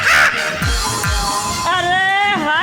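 A voice imitating a crow, giving a few nasal caws in quick succession, loud and close, with talk around it in a rustic comedy setting.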